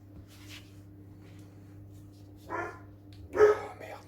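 A single dog bark sounds fairly close, followed by a second sharper bark a second later, over a faint steady hum.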